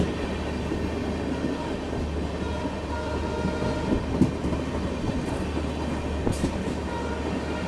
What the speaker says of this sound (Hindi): यहाँ कामरूप एक्सप्रेस को हम लोग तिनसुकिया से निकलते ही ओवरटेक कर रहे हैं।